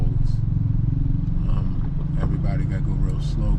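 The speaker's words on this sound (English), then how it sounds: "as this traffic is slowing up because of the potholes" Traffic creeps slowly over potholed roads in Zanzibar, a low continuous engine rumble with clattering bumps and scrapes close by, while a voice talks over it.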